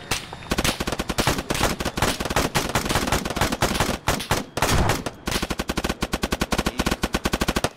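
Sustained automatic gunfire in Arma 3 during a military operation, dense rapid bursts of machine-gun fire with short pauses, loud and close throughout.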